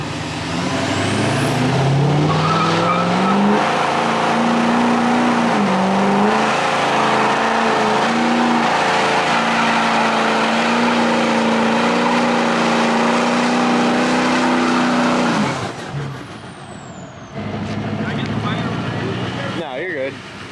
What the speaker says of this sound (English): These L5Ps are burnout freaking animals.